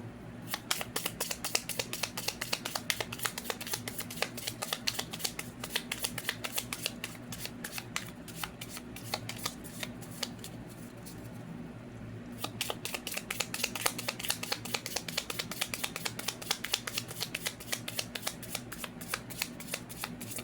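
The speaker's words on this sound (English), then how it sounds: "Now we're going to shuffle" Tarot cards are shuffled by hand in a quiet room, a long run of crisp rapid riffling flutters with a brief pause midway before the shuffling resumes, close and fairly soft, with no talking.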